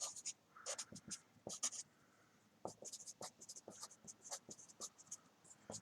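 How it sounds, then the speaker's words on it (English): Handwriting, apparently chalk or marker on a board during a physics lesson on waves and distance, comes as bursts of short scratchy strokes with brief pauses, close and moderately loud, with no talking. "let me write this out before I talk."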